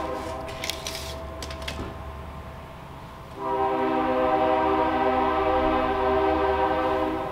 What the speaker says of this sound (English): Train's here.